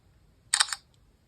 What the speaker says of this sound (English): Camera app, I noticed that the shutter speed is actually quite quick.